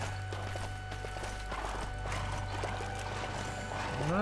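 Horse hooves clip-clopping in the LEGO Worlds video game, a steady run of light rhythmic taps under a continuous musical drone and game ambience, with no talking.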